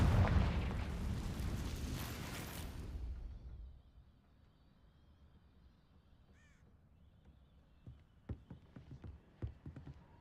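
A fire-based explosion spell bursts loudly in an open-world wizarding video game, a broad roaring blast that decays over several seconds, then sharp clicks and small impacts patter afterward.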